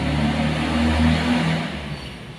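A Yamaha Freego automatic scooter engine runs after a smooth start, a steady mid-pitched hum that rises slightly then settles, close and continuous with no talk.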